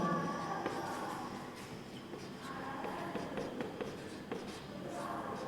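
Chalk or marker scratches across a board during a class 10 maths lecture on polynomials, with continuous scraping strokes and taps of moderate loudness over faint room noise.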